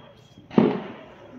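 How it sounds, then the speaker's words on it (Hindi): A single firecracker bursting outdoors during a festive night in a residential area, one sharp bang followed by a short fading rumble, fairly close and alone. "देखो अभी पटाखों की आवाज़ आ रही है"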